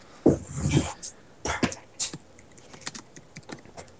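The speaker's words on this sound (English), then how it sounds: "I was typing" A computer keyboard is typed on during a Minecraft session, giving quick, irregular clicks and taps up close, with a few louder thumps at the start.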